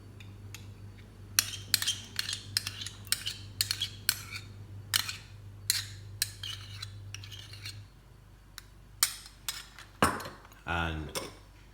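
A spoon works through a bowl of ketchup, dark brown sugar and Dijon mustard for meatloaf glaze, giving a run of quick, close clinks and scrapes against the bowl over a low hum, ending in a louder clatter and rustle.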